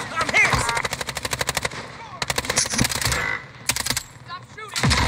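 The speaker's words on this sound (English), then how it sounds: "Stop shooting!" Rapid automatic gunfire in a Call of Duty match, loud bursts of close shots in quick rhythm separated by short pauses, with game sounds and a voice talking faintly underneath.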